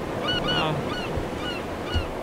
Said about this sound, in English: The seagull. I thought the seagulls had gone.